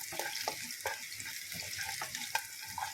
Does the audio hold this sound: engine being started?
no